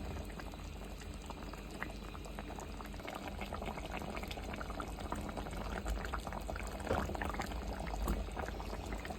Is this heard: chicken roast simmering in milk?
yes